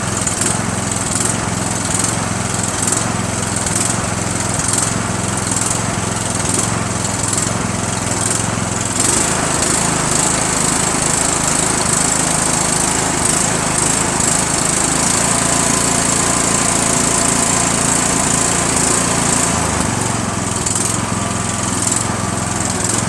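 A Husqvarna riding lawn mower with a Kohler Courage 21 engine runs loud and close, its steady drone rising and falling as the engine surges, without pause for the whole stretch.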